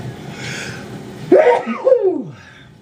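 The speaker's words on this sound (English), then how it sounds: "Excuse me, I'm going to sneeze." A single person's sneeze close to the microphone, a sharp breathy burst after a brief inhale, followed by a short exhale, otherwise quiet.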